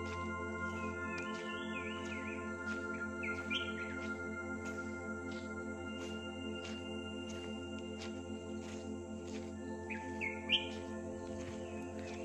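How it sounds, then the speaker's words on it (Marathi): Birds chirp and tweet in short bursts through a quiet afternoon in Phanasgaon, a Konkan village, with several calls overlapping above a steady low background hum and no voices. "तर 4 वाजता पक्ष्यांची किलबिट पण बघा तुम्ही"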